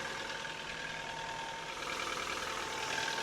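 A Ford Fiesta engine running at idle after a radiator change, a steady close mechanical hum with a slight rise in level partway through, no voices.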